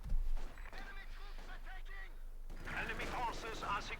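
Machine gun fire and battle noise from Company of Heroes 2, fairly faint, with a denser burst in the second half, mostly under steady commentary from a voice.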